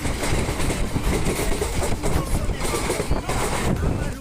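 Train noise at a station in Assam, near Bongaigaon, a steady broadband rumble with wind buffeting the microphone, continuous and fairly loud throughout, with some voices mixed in.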